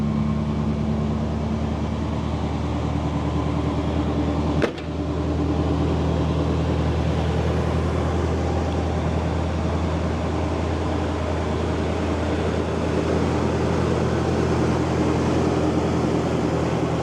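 Steady idle of a 1990 Chevrolet 454 SS V8 engine after start-up, a constant low rumble with even tone throughout and one brief click partway through, no talking.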